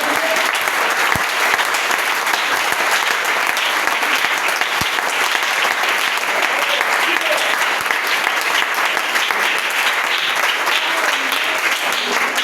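A church congregation in Dolisie applauds the Lord with dense, sustained clapping that stays loud and even from start to finish, with no voices rising above it.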